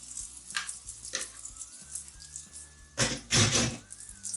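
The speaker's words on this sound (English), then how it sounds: "when the oil is hot enough, is when we place all this in here, in the frying pan" Frying in hot oil: soft sizzling bursts from a pan, with a louder hiss around three seconds as food goes in.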